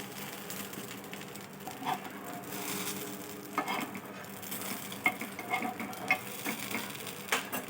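Ponganalu made from dosa batter frying in a pan, a soft continuous sizzle with occasional sharp clinks and scrapes of a utensil, moderately quiet, no talking.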